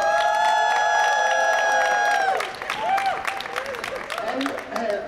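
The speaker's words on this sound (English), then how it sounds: "we'd like to welcome, with a big round of applause," Audience applause and cheering welcome a chorus at the COP24 climate conference in Poland, a dense crowd of claps with scattered whoops that fades out as voices and a sustained musical tone take over.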